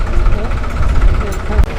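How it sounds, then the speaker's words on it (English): A tractor driving out onto shallow water at low tide near James Bond Island in Krabi, Thailand, carrying a floating dock for boat passengers; its loud, rumbling, knocking engine runs steadily up close. "there was a tractor that came out onto the water and then picked us up off the boat with this kind of floating dock on it"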